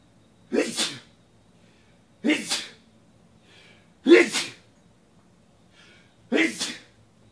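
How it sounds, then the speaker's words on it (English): Four separate sneezes, each a sharp burst with a breathy tail, spaced roughly two seconds apart, fairly close and loud against a quiet room during a football trading card box break. "Apparently sneezing's illegal."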